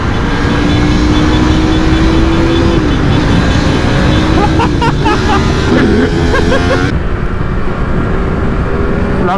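An MV Agusta Brutal 800 motorcycle accelerates hard to overtake, the engine loud and close with a rising pitch and gear changes. Heavy wind roar sits underneath throughout.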